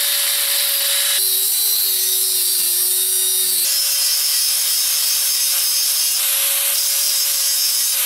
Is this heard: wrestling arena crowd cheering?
no